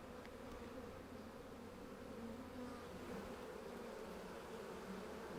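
Honey bees hum around an open hive frame holding developing drone brood, a soft, continuous buzzing close by with no one talking.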